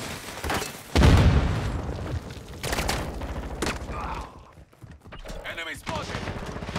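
A grenade goes off in a console shooter with a loud, deep burst that rumbles out over a couple of seconds, followed by further scattered bangs and gunfire-like crackles amid the game's background noise.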